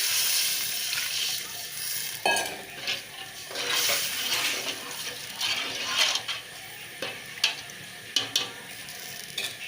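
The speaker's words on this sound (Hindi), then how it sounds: "अब ये मैं पानी इसमें डाल रही हूँ।" Water is poured into sizzling fried masala in a pan while cooking dal mash kofta, with a loud hiss, bubbling and a few scraping stirs, and no talking.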